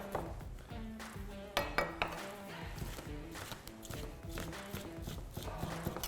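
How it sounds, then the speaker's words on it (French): A knife chops garlic finely on a board, its quick, uneven taps running close and steady with a few louder knocks, under faint background noise. "pour l'ail, n'oubliez pas, c'est de bien écraser pour ressortir l'huile"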